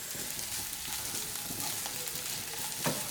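Spices and aromatics for a Kerala-style country chicken curry are sautéed in a pan, giving a steady close sizzle with a few stirring scrapes.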